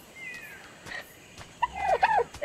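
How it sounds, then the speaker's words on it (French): A pink dodo in the video game ARK: Survival Evolved gives a few short warbling, gobble-like squawks near the end, preceded by a faint whistling tone and some light clicks. "Hey, il y a un dodo rose ici."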